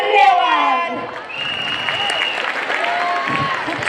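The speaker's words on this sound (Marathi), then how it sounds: "जरा जोरदार टाळ्या झाल्या पाहिजेत" An audience at a cleanliness-themed school or community event applauds, with hands clapping at close range in a dense burst. The clapping fades slightly and then carries on, and a voice speaks briefly at the start.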